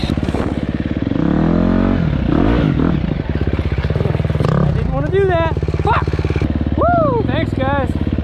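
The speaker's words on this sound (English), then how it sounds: "The riding the dirt bike part is super cool." A dirt bike engine labours loud and close, pulsing and revving as it rides a slippery, tight enduro trail at White Rock. The rider talks over it throughout.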